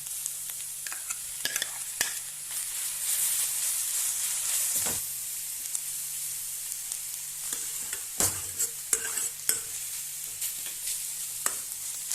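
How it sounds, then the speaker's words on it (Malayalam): Toor dal being stirred into moringa leaf thoran frying in a pan, with a steady loud sizzle broken by repeated scraping strokes of the spoon, and no voices. "ഇളക്കുന്നു"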